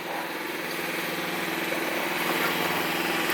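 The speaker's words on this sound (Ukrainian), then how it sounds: "троїть на холостому ходу." A Mitsubishi Pajero 3 4M41 diesel engine with over 300,000 km idles roughly with an uneven, stumbling misfire, likely from tight valves, a steady close drone throughout with no voices.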